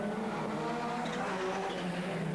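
Division 1 rallycross cars, including a yellow Audi S2 and a Skoda Octavia, race at the 1999 European Rallycross round in France, a loud, sustained engine roar from a moderate distance with no talking.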